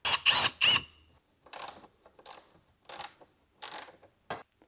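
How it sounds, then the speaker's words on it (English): A ratchet firms up the bolts on a carbon fiber fender trim panel fitted to a Corvette C8. It makes a quick cluster of three sharp clicks, then single spaced ratcheting strokes at a steady pace, close and clear with no talk. "I want to firm them up with the ratchet so I don't over tighten anything"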